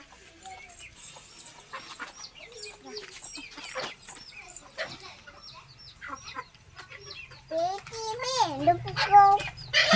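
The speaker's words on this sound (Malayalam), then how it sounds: "അത് താഴത്തെ കോഴിയാണ്." A chicken in a family's yard clucks in short, repeated calls, moderately close, mixed with a voice and other chatter, plus a few louder squawking notes near the end.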